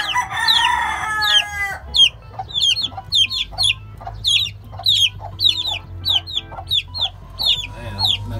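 Chicks in a rooftop poultry pen call for their removed mother hen, giving a rapid run of high, repeated peeping chirps in a steady rhythm, with a louder clucking burst at the start.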